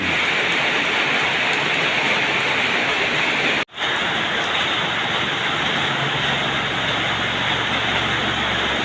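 Steady, loud rushing daytime rain pours continuously in Buriram province, Thailand, briefly cutting out for a moment before resuming just as dense.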